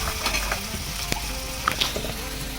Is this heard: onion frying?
yes